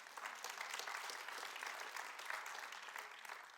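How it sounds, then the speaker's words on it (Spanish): A congregation at a church service applauds, a steady wash of clapping hands that holds at an even level throughout, fairly quiet and with no speech over it. "Denle un aplauso a Dios por eso."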